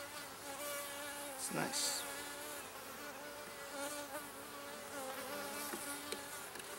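Honey bees buzz densely around an open hive during an inspection, a close, continuous insect drone with individual bees swelling past the microphone; a voice speaks briefly.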